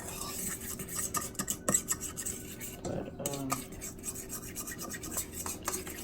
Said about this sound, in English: But I'm just gonna mix it with a fork.